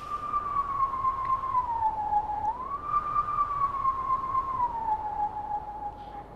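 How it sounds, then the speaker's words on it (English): A howling stone in the Zelda: Twilight Princess video game gives off a steady, wavering whistle-like tone that dips and rises slowly in pitch, sounding continuous and moderately loud throughout, much like a distant siren. "This is a howling stone."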